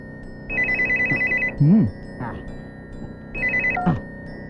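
A phone ringtone trills in two bursts, a fast warbling electronic ring that repeats, cut by short voices and a brief comedic sound effect between the rings.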